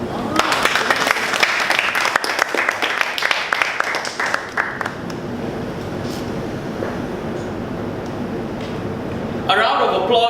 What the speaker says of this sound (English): A round of applause to Advanced Communicator Silver Computer Leader Lim Game Kim